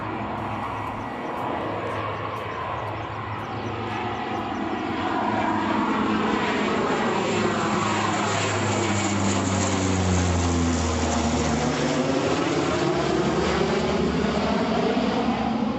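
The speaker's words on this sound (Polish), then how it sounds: "samolot oderwał się od pasa startowego lotniska w Katowicach i zaczął się wznosić" An Antonov airplane takes off from the runway at Katowice airport and climbs, a loud steady engine roar that swells and holds with shifting tonal drones throughout, no voices.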